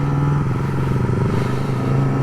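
Yamaha R6 sport motorcycle being ridden, a loud close engine drone holding a steady high-revving pitch with slight rise and fall, wind and road noise mixed in, no talk.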